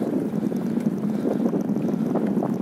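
Steady wind rushes and buffets against the microphone throughout, a continuous low roar with no speech.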